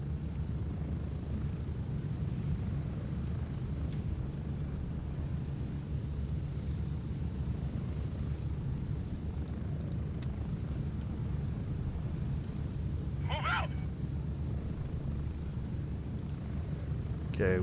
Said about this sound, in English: Once that helicopter gets far enough away, I'm gonna turn this thing back up.